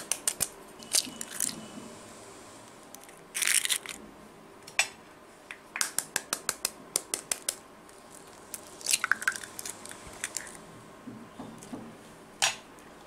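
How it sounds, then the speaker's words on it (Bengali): Eggs are cracked for a Bengali steamed egg curry, with short sharp taps and shell crunches in several quick bursts, plus small clinks of a bowl, all close and alone with no talk. "ডিমগুলোকে ফাটিয়ে নেব"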